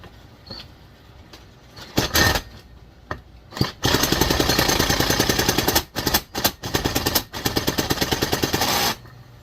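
A power drill whirs in loud sustained bursts, spinning a Homelite Super XL chainsaw engine with a new cylinder over for a compression test, a rapid rhythmic chugging, stopping and starting several times up close.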